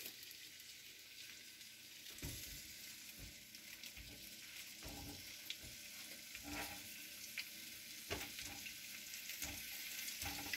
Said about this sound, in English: I hear things starting to sizzle here.